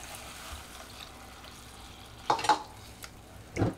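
Water from rinsing a blender is poured onto cashew paste frying in a pan for Bengali-style paneer, setting off a couple of sharp sizzling bursts over a low background crackle, then a final hiss near the end.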